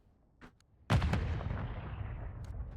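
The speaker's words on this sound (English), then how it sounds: "now some shots ringing out" Gunfire in a competitive shooter match: a faint distant pop, then a loud sharp shot followed by a couple of quick echoing reports that decay into a long rumbling tail, with no talking.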